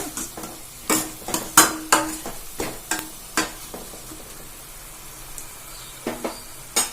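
Spinach greens wilt in an open pan while a spoon stirs them, giving soft sizzling under a series of sharp metallic scrapes and clinks against the pan, some close together and others spaced by quiet gaps.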